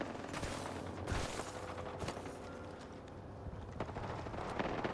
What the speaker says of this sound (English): Launching me knuckle cluster